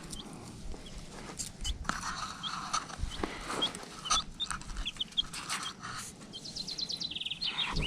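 Chicks peep in a henhouse, with a steady run of high, rapid chirps and clucking from nearby fowl over a busy, rustling background, ending in a quick burst of repeated peeps.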